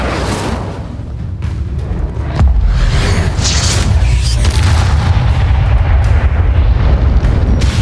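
Incendio fire spell cast in Hogwarts Legacy, a booming burst that swells partway through into a loud, sustained fiery roar lasting several seconds.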